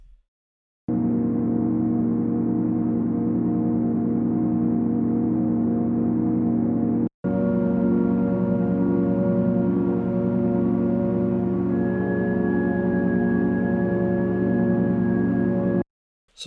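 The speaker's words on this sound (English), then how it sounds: "it makes some kind of very big and dense drone-like sound like this" A big, dense sustained drone holds steady for long stretches, briefly cutting out before resuming, with a high tone emerging near the end.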